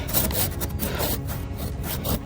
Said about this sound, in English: But I just kept on sawing away at it.